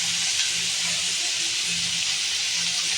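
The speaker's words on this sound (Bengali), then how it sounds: "লবণ দিয়ে আবার আমি একটু কষিয়ে নিচ্ছি" Fish masala with salt frying in a pan makes a loud, close, unbroken hiss of sizzling oil and spices that holds steady throughout.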